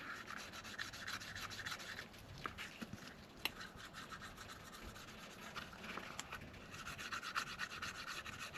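The leather edge of a handmade Zippo lighter pouch is burnished with light, quick back-and-forth rubbing strokes, a faint, close, continuous dry friction heard alone.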